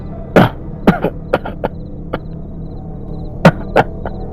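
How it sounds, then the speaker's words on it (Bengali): A series of short, sharp coughs and throat-clearing sounds, close and fairly loud, in irregular bursts with quiet gaps between them, for a Bengali horror animation story; no talk alongside. "পাটা বাড়াতেই একটা মৃদু কাশির আওয়াজ কানে এলো"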